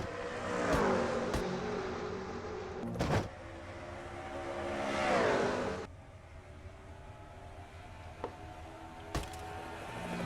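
Stock race cars roar past at the start of a race at Rockingham, engine whines swelling and fading as cars pass in bursts, heard from a moderate distance with no talk.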